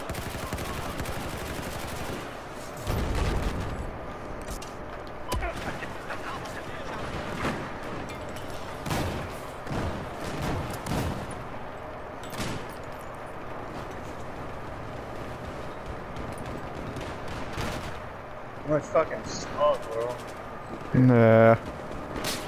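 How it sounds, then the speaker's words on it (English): Bursts of automatic gunfire crackle close by on the Floodzone map of Battlefield 4, repeated rattling volleys with a sharper burst near the end, while players talk over the action. "I hear shooting like right by us"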